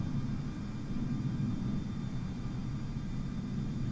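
An A320neo jet taking off in Microsoft Flight Simulator produces a steady, dense low engine roar with a hissing wash on top, holding constant and fairly loud throughout with no speech.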